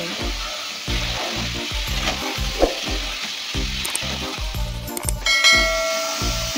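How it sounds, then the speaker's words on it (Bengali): Ridge gourd and potatoes sautéing with spices in a pan, a steady hiss of frying with rhythmic stirring scrapes and low thumps repeating throughout, close and continuous. "এখন আমি 3 থেকে 4 মিনিট সময় ধরে খুব ভালোভাবে কষিয়ে নেব।"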